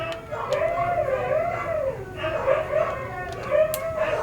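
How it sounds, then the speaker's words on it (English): Several dogs barking and howling with rising and falling, wavering cries, moderately loud and continuous, over a low steady background hum. "those are my dogs barking, someone riled them up"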